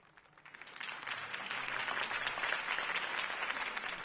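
A crowd applauds in Batman: The Telltale Series, the clapping rising quickly from quiet and holding steady as a dense, continuous patter.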